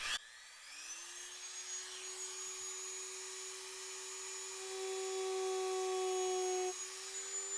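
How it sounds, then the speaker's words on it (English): A power tool grinds on a car dashboard, whining steadily at high speed, its pitch rising slightly as it works, then dips briefly near the end. "we're just going to grind these out real quick"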